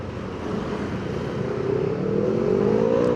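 A Honda PCX 160 motor scooter on a test ride gives a steady close engine drone with road rumble, its pitch climbing smoothly as it accelerates.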